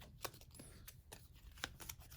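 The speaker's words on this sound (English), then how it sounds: "you're going to take those 4 cards and you're going to shuffle those up" A few playing cards are shuffled by hand during a card game, producing faint, soft papery flicks and riffles in an irregular rhythm, quiet and close, with no one talking.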